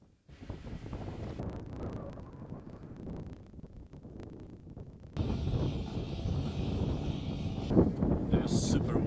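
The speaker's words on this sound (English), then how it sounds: "It was super windy out here today." Strong wind roars and buffets the microphone steadily, growing louder partway through, with no clear voices.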